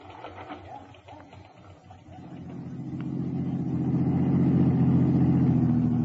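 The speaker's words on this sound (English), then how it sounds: "In a rented car, I drove back to the Anderson address, parked across the street, and watched" A radio-drama sound effect of a rented car starts with a low engine that builds into a steady, rising mid-range drone while driving, heard alone and growing louder toward the end.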